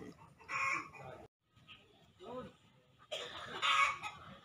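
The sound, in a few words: free range chickens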